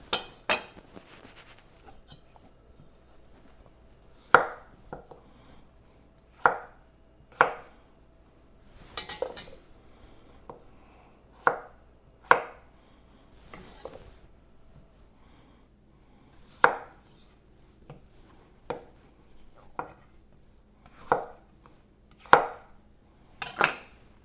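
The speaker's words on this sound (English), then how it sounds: "now we will start with dicing the potatoes" A knife dices potatoes on a cutting board for a pub-style shepherd's pie, about fifteen sharp, close chops spaced unevenly with short quiet pauses between them, no talking.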